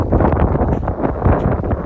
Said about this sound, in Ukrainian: вітер дме з тої сторони не дуже то комфортно сидіти і ловити рибу